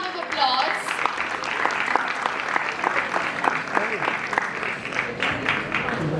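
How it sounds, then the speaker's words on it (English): A room full of people claps loudly and continuously to welcome startups at an international startup competition, the applause steady and even for several seconds with no break. "let's get the energy high and welcome these startups with a huge round of applause"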